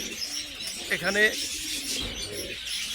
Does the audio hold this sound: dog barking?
no